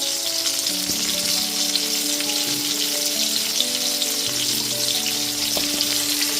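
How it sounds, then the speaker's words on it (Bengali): Carrot, cauliflower, potato and radish fry in a pan over a medium gas flame, giving a loud, close, continuous sizzle with faint steady tones underneath. "মূলো গাজর আলু আর ফুলকপি যেহেতু ভাজতে একটু সময় লাগে ওই জন্য এইসব সবজিগুলো আগেই ভেজে নেব"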